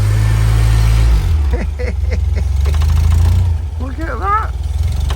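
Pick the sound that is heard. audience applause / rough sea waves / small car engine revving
small car engine revving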